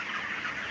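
Chickens on a poultry farm cluck in a dense, continuous flock chatter, close and steady with no voices over it.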